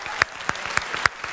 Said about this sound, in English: A big applause, please, especially for Patrick and the whole team.